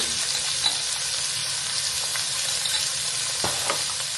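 Onions frying with turmeric powder in a hot kadai for onion rice, a steady close sizzle throughout with a few soft stirring scrapes near the end.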